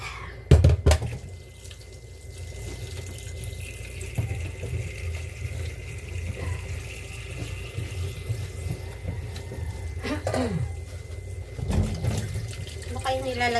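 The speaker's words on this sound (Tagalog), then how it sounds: "Mahina ang tubig ngayon." A weak stream of tap water runs into a kitchen sink in a low, steady trickle, broken by a few clinks and splashes of dishes, while people talk nearby.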